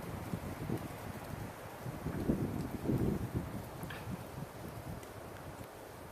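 Wind gusts outdoors in a low, rumbling buffet against the microphone, swelling and easing in uneven puffs over a steady rushing background.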